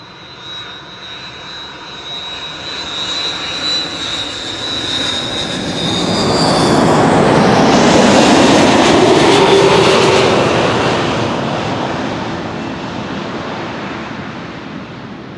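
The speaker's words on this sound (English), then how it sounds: "A330-300 arriving from Edmonton, Canada. KLM flight 676. Now touching down after 8 hours and 6 minutes of flight." KLM Airbus A330-300 airliner touching down at Amsterdam Schiphol after a long flight from Edmonton: a steady jet roar swells to a loud broad rush as it passes nearest, then slowly fades, with a high engine whine early on.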